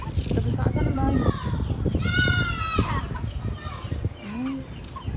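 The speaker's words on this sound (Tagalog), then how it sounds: "Kaninong manok yan?" Chicken clucking in a rural Filipino yard, heard over close conversation with a child. Pitched clucks and calls sound through the talk, including a longer cackling call midway.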